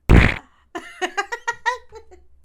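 A single loud, wet fart bursts out for about half a second, followed after a brief pause by a string of rhythmic giggles and laughter.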